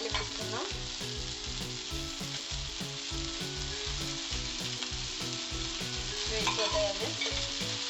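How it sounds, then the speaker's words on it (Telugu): Rava-coated fish pieces shallow fry in oil, a continuous close sizzle and crackle with light stirring or turning noises and a brief louder flare near the end. "ఒకవైపు వేగిపోయినాయి, రెండో వైపు తీసుకున్నానండి ఫిష్ ముక్కల్ని."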